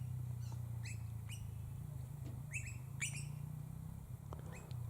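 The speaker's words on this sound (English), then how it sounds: "That's the Eastern Rosella sound anyway." Eastern Rosellas give repeated sharp, rising chirps and whistles near a terracotta bird bath, several bright calls in quick clusters over a steady low hum of background noise.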